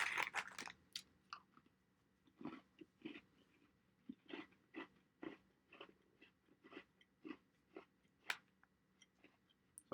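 Crunchy chewing of an Oreo cookie close to the mic, a steady run of soft bites and crunches, quiet and alone with no talking.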